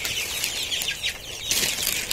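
Chickens in a small poultry house heated by a single bulb give faint, scattered clucks and rustling bursts, low in level with no talking.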